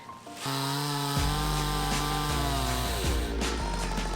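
A chainsaw with a dull chain cuts through logs, its engine revving up to a loud, steady buzzing drone close by, dipping in pitch as the blade bites and pulls through the wood.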